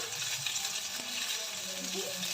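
Onions frying in oil, a continuous soft sizzle with faint stirring clicks, steady and close.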